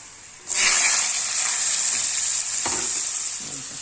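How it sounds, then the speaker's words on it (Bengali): Pumpkin, eggplant and red amaranth stems are dropped into hot oil, which bursts into a loud, steady sizzle and keeps frying close by, with a brief stir or clink near the end. "এখন এই যে একে একে মিষ্টি কুমড়, বেগুন আর লাল ডাঁটি সব দিয়ে দিব"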